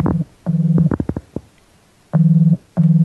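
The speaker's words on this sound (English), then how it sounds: "You're thinking of the off-hook tone" A loud, buzzy UK telephone off-hook tone sounds in short repeated bursts, interrupted by a few brief clicks and a quiet gap before it resumes.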